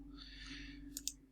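A single mouse click sends a course message, a soft, brief double click heard close up against a quiet background hum.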